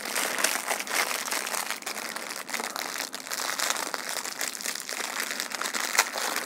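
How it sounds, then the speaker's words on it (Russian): Continuous crinkling and rustling of a plastic bag holding a bicycle handlebar smartphone holder being unwrapped, close and fairly loud, with a few sharper crackles and no talking. "Давайте посмотрим, что там внутри, распакуем."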